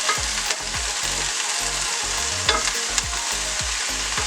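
Stir-fry vegetables sizzle steadily in a hot frying pan, with repeated scraping and stirring thumps at a regular pace, close and fairly loud.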